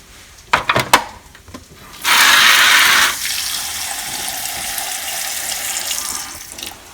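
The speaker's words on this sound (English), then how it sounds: "Let's add that and add some water." Water pours from a tap into ground crab masala being prepared, a steady loud rushing stream lasting about a second after a few light clinks, then a softer trickling wash continuing to the end.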